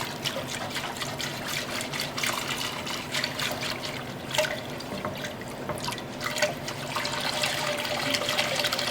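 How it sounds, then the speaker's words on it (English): Whole milk is whisked into a pot for mac and cheese, a close, continuous liquid sloshing and clinking of the whisk that gets slightly louder toward the end. "Just give it a nice whisk."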